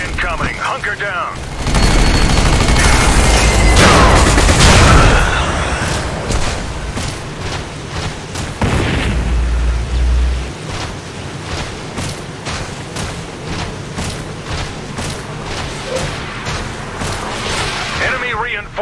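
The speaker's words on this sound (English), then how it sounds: "Airstrike incoming." Airstrike explosions and heavy gunfire boom and rattle in the Section 8: Prejudice game, a loud burst of blasts early on followed by a steady spread of sharp gunshots and rumbling impacts throughout.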